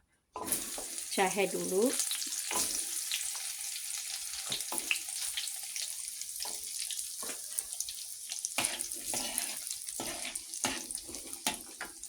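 Aromatic ginger, turmeric and ginger fry in a pan for Javanese urap. A steady, close sizzle crackles throughout, with a brief spoken phrase near the start.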